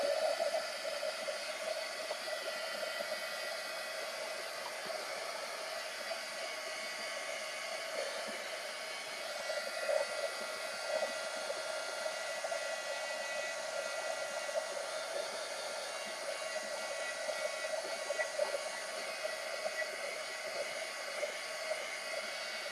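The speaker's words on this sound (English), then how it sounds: "So let's get the heat gun onto it now." A heat gun blows steadily on a mixed media journal page, a continuous close airy roar with a mid-pitched whine that holds at an even level throughout, no talk over it.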